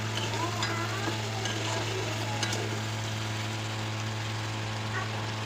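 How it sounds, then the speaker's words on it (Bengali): Whole spices tempering in hot oil in a kadai (wok) with ginger, a steady soft sizzle and frying crackle under a constant low hum, with occasional stirring clinks. "কড়াইতে ফোড়ন দিয়ে দিয়েছি"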